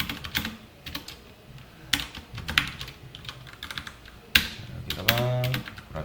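Computer keyboard typing: bursts of quick, close key clicks with pauses between them, ending in a longer run of keystrokes, with faint talk in the background.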